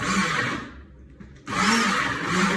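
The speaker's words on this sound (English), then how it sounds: "If you move your blender on circular moves, it's going to blend it better." A blender whirs loudly while mixing vegan mozzarella ingredients into a chunky blend, stopping for about three-quarters of a second mid-clip before the steady motor roar starts up again, with no talk.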